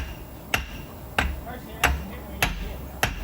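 Five sharp hammer strikes on the axle of a 1966 Ford Thunderbird, evenly spaced about half a second apart, close and ringing, with quiet background noise between blows.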